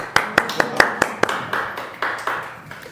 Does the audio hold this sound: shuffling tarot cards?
no